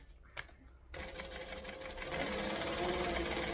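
Sewing machine stitching along each side of a center seam: a few soft clicks and handling noises, then the motor kicks in and hums steadily and loudly, its pace building toward the end.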